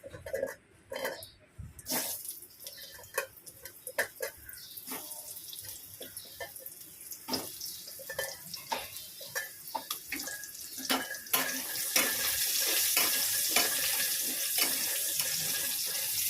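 Potatoes frying in oil, a crackling sizzle with sharp spatters and utensil clatter that builds into a loud, dense hiss toward the end, close by and without talk.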